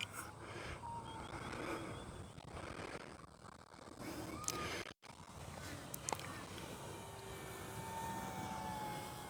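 A faint, distant engine drone from an RC Cirrus model airplane flying overhead at low altitude, holding a steady hum that rises slightly as throttle increases.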